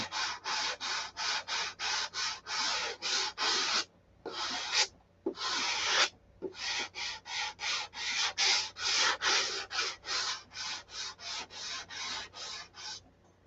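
Hand sanding a coated wooden piece, a rapid run of rhythmic rubbing strokes about two per second, close and crisp, with a few short pauses and no talk.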